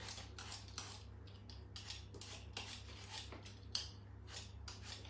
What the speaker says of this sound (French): Et ensuite, on va la hacher au tornado.